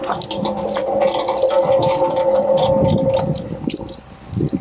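Shower water runs in a steady, full hiss and splash, loud and close, with no talking over it.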